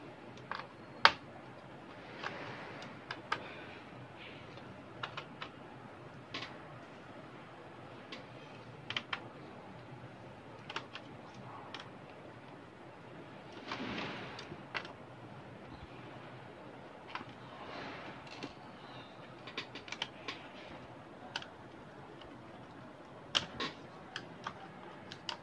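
Screws being unscrewed from beneath the keyboard of an Acer Aspire 5250 laptop, sounding as small scattered ticks and clicks over a low background hum, with a denser scraping patch midway.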